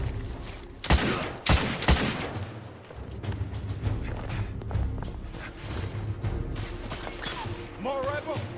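Gunfire rings out in a Victorian London shootout in the video game The Order 1886. Several loud, sharp shots come early, then a steady rattle of more distant firing continues under shouting voices.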